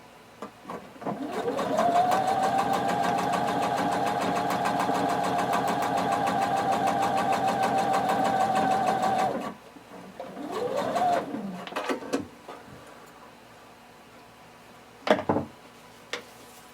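A sewing machine runs a regular-length stitch close to the fold of the fabric for a shorts or pants pattern. It hums steadily for about eight seconds, then gives a shorter burst of stitching and a soft thump, with no talk.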